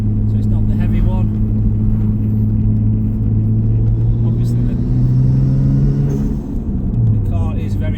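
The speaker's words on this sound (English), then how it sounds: "the car is very noisy, should we say, but I think whoever's buying one of these wants it to be noisy" A 1999 Nissan Skyline R34 GTT with a 2.5-litre single-turbo engine, its loud, droning engine and exhaust note holding steady from inside the car, then dropping in pitch as revs fall near the end, with a person talking over it.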